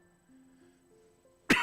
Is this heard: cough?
yes